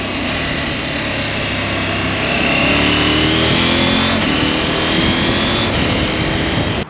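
Husqvarna Norden 901 motorcycle engine accelerating on a road, a loud steady roar with rising revs and gear changes heard up close, no talking.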